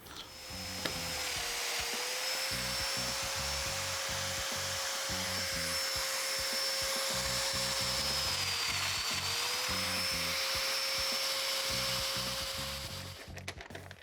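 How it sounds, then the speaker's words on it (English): A mortising cutter bores straight-down mortises in wood for a mudroom cabinet, a loud, steady high-pitched whine running nearly the whole time with a brief dip in pitch near the middle and no talking. "I'm doing mortises going straight down"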